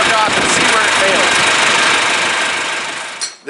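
A John Deere tractor engine runs close by after a block heater install, a loud, steady idling drone with a rough vibrating edge that carries on evenly and drops away at the end.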